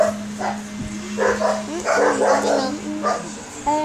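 A dog barks and yips in short bursts, video-game style, over a steady low hum, with a brief whimper between barks.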